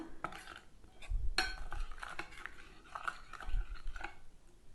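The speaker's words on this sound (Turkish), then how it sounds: "Gördüğünüz gibi iyice karıştırıyorum kaşık yardımıyla." A spoon stirs a flour mixture in a bowl for bread dough, giving scraping, clinking strokes in an uneven rhythm close by, with no talking.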